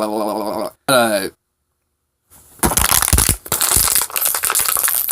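A person vocally imitates the grinding, rattling mechanical noise a used Subaru makes under acceleration. A short voiced sound and a pause come first, then a harsh, noisy, gritty burst of mouth noise fills the rest.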